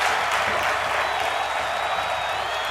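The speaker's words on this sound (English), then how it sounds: "You can hear the appreciation from this crowd here in Sydney, Australia." A crowd at a wrestling event in Sydney, Australia, applauds steadily, a dense, continuous clapping wash with a faint whistle, filling the whole moment at an even level.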